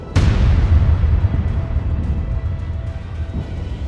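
Explosion aboard the battleship Ocean during the 18 March 1915 Dardanelles naval battle, rendered as a documentary effect: one sudden loud blast with a deep rumble that rolls on and slowly fades.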